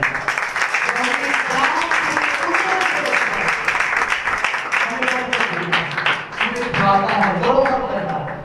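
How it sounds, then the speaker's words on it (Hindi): An audience at a Sukkot Feast of Tabernacles gathering claps loudly and continuously, a dense patter of hands blended with a preacher's voice and crowd talk. "आइए ऐसे खुदा के लिए मैं चाहता हूं जोरदार ताली बजाएं।"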